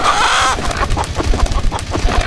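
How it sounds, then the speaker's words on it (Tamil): Chicken clucks and squawks sound close and loud in short bursts over a dense musical bed, laid into the background score of the Kottukkali film trailer. "கோழி சவுண்ட் வச்சு ஒரு பிஜிஎம் கிரியேட் பண்ணியிருக்காரு."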